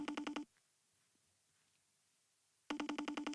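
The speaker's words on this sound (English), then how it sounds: "It's ringing." A telephone line rings back with a burst of rapid pulsed electronic tones, a stretch of near silence, then another identical pulsed burst; quiet and close, as heard through the handset.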